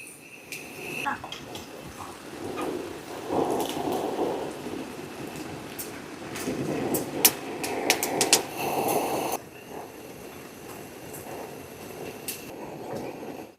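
Heavy rain falls at a campsite on a hilltop as a dense, steady downpour close by, with scattered sharper drips and taps rising above the constant wash.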